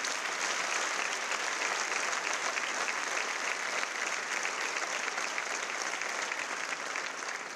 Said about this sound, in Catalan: per als qui us demano un molt fort aplaudiment